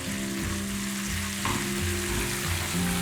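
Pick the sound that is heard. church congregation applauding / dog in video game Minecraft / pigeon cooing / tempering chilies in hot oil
tempering chilies in hot oil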